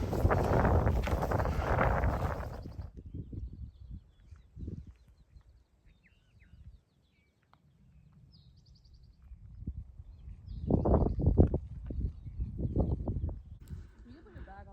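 Cold wind gusts buffet the microphone on a mountaintop at sunrise, loud rushing at the start, then easing and returning in bursts near the end, with a few faint distant sounds between.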